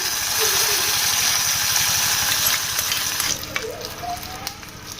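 Hot tempering poured into gongura gives a loud, close burst of sizzling and crackling that holds steady for a few seconds, then eases off into quieter scattered crackles and light clinks.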